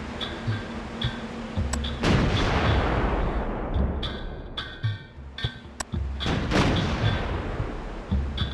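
An ancient emperor's cannon fires in the fantasy video game Summoner 2, heavy booming blasts with a few sharp reports and thumps in between, loud and close, with no speech.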